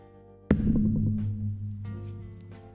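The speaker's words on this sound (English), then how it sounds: "I'm gonna hit the chair now." A chair is struck and a desk mic arm with no shock mount carries the blow, giving one sudden low thump followed by a resonant boomy hum that slowly fades, with a second softer knock later.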